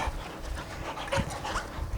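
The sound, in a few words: dog Bonnie panting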